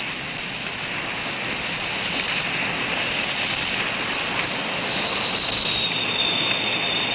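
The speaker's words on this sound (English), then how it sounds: "We'll start up the engine." A jet plane engine runs as a steady, loud, close roar with a sustained high whine riding on top, holding even throughout with no voices.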